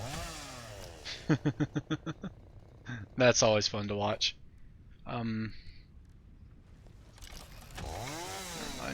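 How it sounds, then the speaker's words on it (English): Chainsaw being equipped in the factory-building game Satisfactory: a quick run of short, evenly spaced revving bursts, then a longer throaty rev and a brief final burst, all mixed with someone talking. "Oh yeah, when you first equip the chainsaw."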